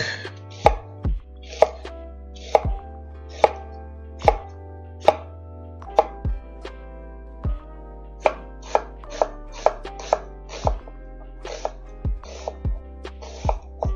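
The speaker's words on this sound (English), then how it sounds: "Alright, so onions, let's just go for it and do that. Show you how I do my cut, knife fork." A knife chops onions on a cutting board in a string of sharp, distinct thuds at an uneven, unhurried pace, close and clear against a quiet background.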